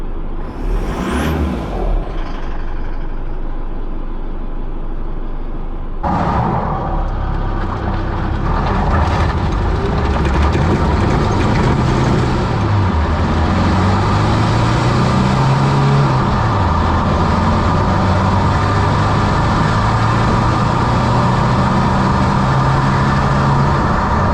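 A stock Isuzu D-Max engine running at about 2,500 RPM on the road, a loud, close, steady drone with road and wind rumble and a slowly shifting low tone, no talk.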